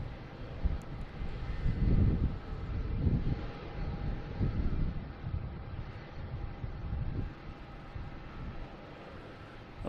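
An American Airlines Embraer E-175 jet passes overhead at Boston Logan Airport on a winter day, its engine roar swelling and fading in broad waves, distant and moderately loud, mixed with gusting wind noise on the microphone.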